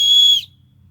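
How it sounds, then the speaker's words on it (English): A loud, shrill emergency whistle built into a UST Parasaw Pro survival saw gives one steady high-pitched blast lasting under half a second, then cuts off, leaving only a faint low hum. "There's an emergency whistle on here as well."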